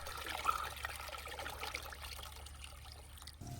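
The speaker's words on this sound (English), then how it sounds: "We're going to pour about 3 liters of homemade weed tea right into the bucket." Homemade weed tea, about three litres, trickles and pours into a garden bucket, a faint, soft continuous liquid stream with no talking.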